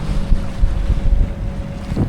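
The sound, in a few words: growing sea waves and wind on a sailboat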